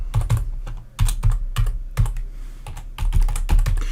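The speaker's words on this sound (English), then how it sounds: "So I'll enter my password." Password typed on a computer keyboard: close, crisp key clicks in quick irregular bursts, several rapid strokes then brief pauses, loud and clear with no voices.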